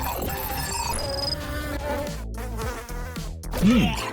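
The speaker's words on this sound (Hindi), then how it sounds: "एक मक्खी, मजेदार नाश्ता है।" A cartoon housefly buzzes loudly and continuously for about four seconds, a whining drone that warbles in pitch, mixed with background music and sound effects.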